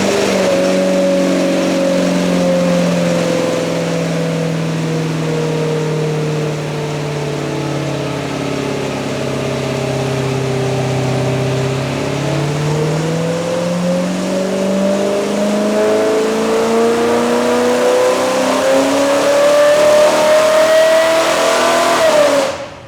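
Small-block Ford 289 V8 with its mufflers removed, revving loud and close with a raw, unmuffled exhaust note that sags in pitch midway, then climbs steadily to a peak before cutting off; no talking.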